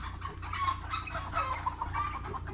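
Agitated farm chickens cluck and squawk in short, scattered bursts over a constant noisy backdrop, fairly close and moderately loud, with no talking.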